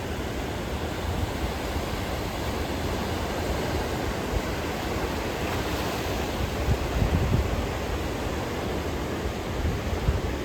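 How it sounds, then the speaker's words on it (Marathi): Continuous wash of sea surf breaking on the shore at Bhogwe beach, Vengurla, India, steady and moderately loud, with a slightly stronger surge midway and no talking. "असं भोगव्याचं समुद्र"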